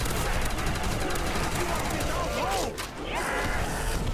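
Rapid, dense gunfire from a weapon in the Call of Duty custom zombies map UGX Requiem, sustained bursts filling the whole stretch with a brief dip near the end.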